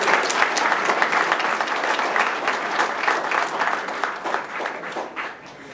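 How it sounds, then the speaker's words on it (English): Audience applause for Korean musicians at a Korean National Foundation Day and Armed Forces Day ceremony, a steady dense crowd clapping that holds at an even level throughout and eases slightly toward the end. "Let us give them a warm round of applause for their beautiful contribution."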